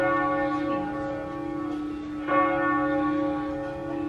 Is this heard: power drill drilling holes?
no